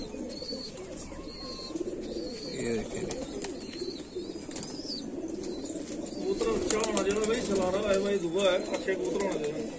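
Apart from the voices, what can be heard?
pigeons cooing and flapping wings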